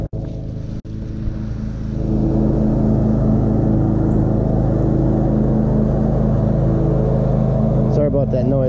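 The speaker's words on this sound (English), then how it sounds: "Sorry about that noise, got a farmer mowing next to me" A farm mower works a field next to a Mississippi River fishing spot in Minnesota, its loud engine droning steadily and rising in intensity, with a brief voice near the end.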